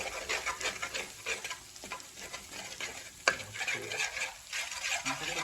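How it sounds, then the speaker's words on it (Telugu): Masala frying in oil over a low flame with a spoon stirring and scraping the pan, sizzle underneath and irregular clinks and scrapes, one sharper knock partway through, no voices. "ఆయిల్ చూడండి ఫ్రై చేస్తున్నారు"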